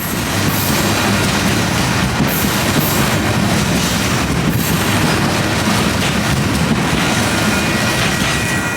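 A freight train of intermodal cars and a long cut of gondola cars rolls past close by, a loud continuous rumble with rhythmic wheel clatter and faint metallic squeal throughout.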